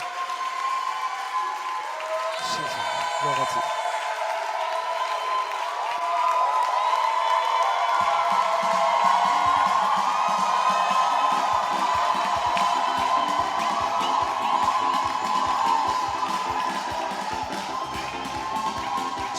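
A church congregation at a Sunday service cheers and acclaims, with a sustained swell of applause, voices and whoops filling the hall alongside steady music, building louder midway and holding.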